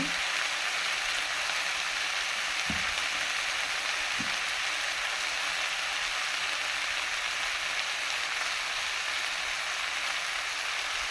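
Banana flower stir-fry with peanut powder cooking in a pan, giving a constant dense sizzle with a couple of faint low knocks from stirring, steady throughout and free of speech.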